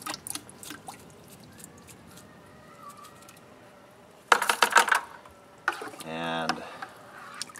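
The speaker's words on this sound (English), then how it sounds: "And then I just dump the water." Rinse water from a solar wax melter, holding wax and honey residue, is dumped outdoors in two quick splashing bursts that stand out against quiet background bird sounds.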